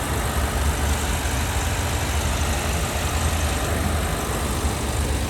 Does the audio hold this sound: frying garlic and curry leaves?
no